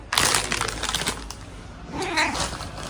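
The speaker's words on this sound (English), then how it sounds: "We got some usable cat meow content." A house cat just woken from a nap meows close and loud, several drawn-out cries with scuffling in between and no talking.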